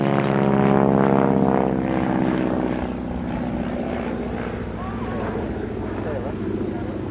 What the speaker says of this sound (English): demonstrating the aerobatic abilities of the Stearman in a loop.